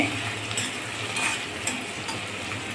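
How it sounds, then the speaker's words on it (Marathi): Ginger-garlic paste sautéed and stirred in a pan while making cashew masala curry, with a steady soft sizzle and faint scraping of a spoon on the pan, quiet and continuous throughout. "आलं लसणाची पेस्ट घालणे. सगळं एकत्र परतून घेणे"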